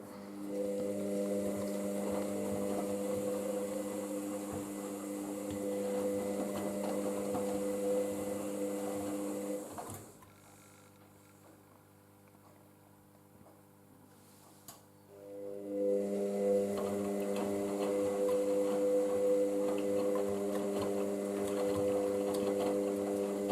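An Indesit washing machine in its fast tumble stage hums and whirs with a steady motor drone, pausing quietly for about five seconds midway before the drum tumbling resumes just as loudly.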